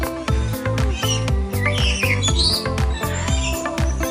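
Birds at a safari bird show give high squawks and chirps over a busy, rhythmic background of clattering and pulsing music-like noise, with short calls scattered throughout.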